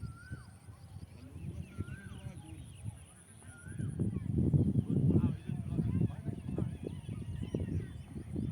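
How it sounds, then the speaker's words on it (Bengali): A line of ducks waddles past at a village riverside in the evening, giving repeated nasal honking calls over a rising low rumble of movement. "সারি সারি হাঁসগুলো চলে যাচ্ছে।"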